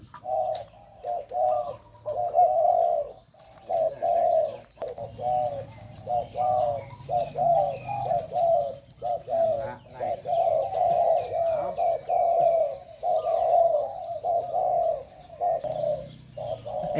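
Rhythmic cooing of a decoy dove repeats steadily in short phrases, close and clear, with faint background noise and no voices.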